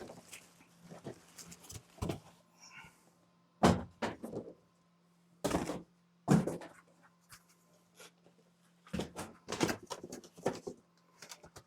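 Cardboard box of a mini 3D printer being ripped open, with repeated sharp tearing and rustling bursts separated by short pauses, close and fairly loud over a low steady hum.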